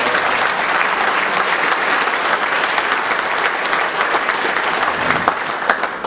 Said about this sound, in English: I want to give them, for those who set this up, provided a wonderful evening for us, a round of applause.